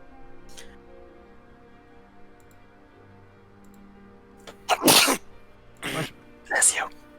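A person sneezes during a tabletop Dungeons & Dragons session, a couple of sharp bursts following quiet room tone and a few faint clicks.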